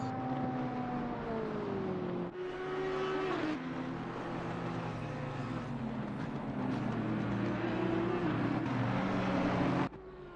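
Race cars in the Assetto Corsa Competizione game crossing the finish line at Kyalami, heard as a steady, loud engine drone with gliding pitch as cars pass and shift, continuous and alone.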